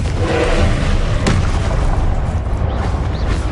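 A Confringo spell explosion in a wizarding game lands as one loud, close boom with a sharp crack in the middle, surrounded by a dense roaring burst.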